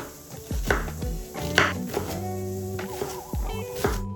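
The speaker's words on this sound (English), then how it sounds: "Next, we need to peel and chop up our carrots and onion." A knife chops carrots and onion on a cutting board in a quick, irregular series of close, firm thuds and knocks, with no talking.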